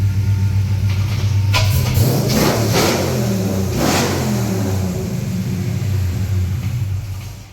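A car engine revs hard inside a Quonset hut, with two or three sharp throttle blips whose exhaust booms and echoes off the curved metal walls before settling into a deep, rumbling idle.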